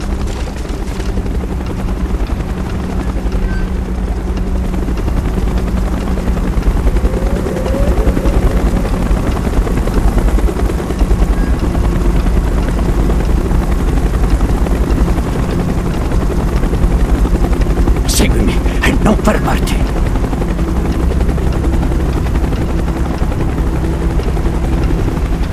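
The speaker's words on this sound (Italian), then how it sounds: "Elicottero in arrivo, muoverci!" Helicopter approaching in the Call of Duty Black Ops video game, a steady loud rotor drone with low thumping throughout, a few sharp bursts of noise near the end.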